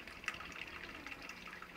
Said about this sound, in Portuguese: Eu vou jogando água aqui em cima